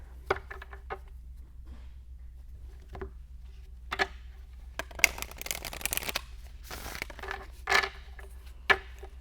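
Oracle cards shuffled by hand, with soft papery riffles and taps in short bursts, several clustered near the middle and end, close and fairly quiet with no talking.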